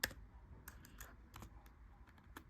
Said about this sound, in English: I could type Stetson on there